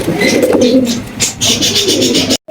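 Close, repeated cooing of King pigeons in low rolling phrases, with a few higher chirps and some background voices.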